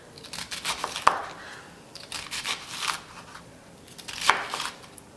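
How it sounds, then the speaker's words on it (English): A knife thinly slicing an onion laid on its side, giving a few crisp cuts with two sharper snaps, over faint scraping and rustling on a board. "we're going to just take our knife and we're thinly going to cut down"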